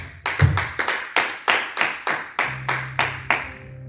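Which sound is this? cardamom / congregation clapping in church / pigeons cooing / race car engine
congregation clapping in church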